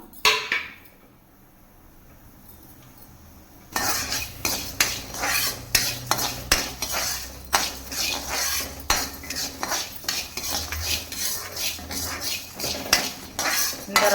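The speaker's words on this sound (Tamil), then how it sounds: "முதல்ல கொள்ளு வறுத்துக்கலாம்" A metal spoon scrapes and clatters repeatedly against a pan in a steady stirring rhythm while dry roasting horse gram, with light dry rattling, after a quiet start.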